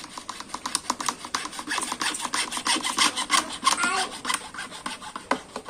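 Pipe being sawn to length for a DIY canvas fish pond, a steady back-and-forth rasping saw stroke repeated quickly and evenly, close and moderately loud with no talking.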